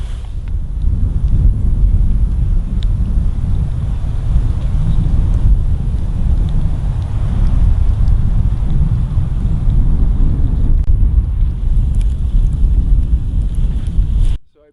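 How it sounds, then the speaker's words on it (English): Steady gusting wind at a winter campsite on a very cold night rumbles and buffets the microphone for a long stretch, low and loud, then cuts off abruptly at the end. "the sudden gusts of wind serve as a stark reminder that the battle continues"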